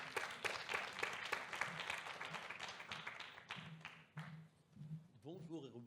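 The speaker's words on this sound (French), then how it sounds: "je vous prie d'accueillir Jeanne Vieillard, Wissam El Hadj, Coraline Ingray, sous vos applaudissements" A conference audience applauds as round-table panelists on sexist and sexual violence take the stage. Steady, full clapping fills the hall and then thins out, while a voice begins talking over the fading applause.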